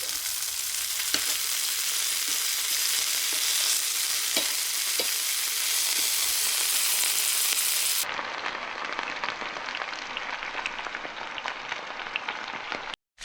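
Gaper clam valves frying in a pan, a dense, loud, continuous crackling sizzle with occasional utensil taps, the tone turning thinner and duller partway through before cutting off.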